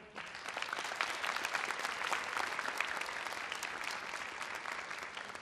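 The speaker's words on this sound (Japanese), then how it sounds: "拍手でお迎えください" An audience applauds steadily to welcome the dance group non-no nonno onto the performance stage at the Hokkaido culture festival. The dense clapping holds at an even level throughout, with no talk over it.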